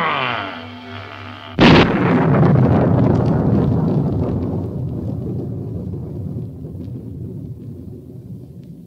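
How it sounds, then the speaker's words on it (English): A film-scene explosion erupts suddenly as a loud, close blast, then rolls into a long, heavy rumble that slowly fades over several seconds after a quieter musical passage. "Oh, what an explosion."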